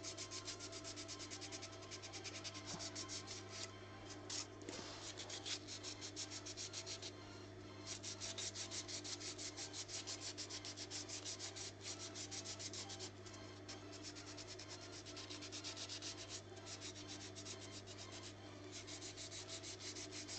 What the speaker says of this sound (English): Sandpaper! Yes, I sandpaper.